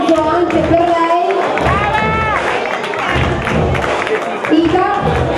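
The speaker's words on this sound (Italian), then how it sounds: "Un applauso anche per lei." Audience applause and cheering at an award ceremony of a national beauty and congeniality contest held at a restaurant, a steady crowd clapping under a voice announcing over a loudspeaker.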